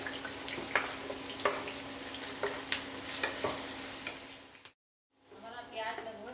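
Onions sizzle steadily in plenty of oil in a pan as a spoon scrapes and stirs them in regular strokes, close and clear, with a brief silent gap before the frying resumes.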